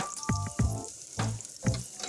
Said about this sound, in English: fry our onions with garlic and onions, and make sure your onions turn golden brown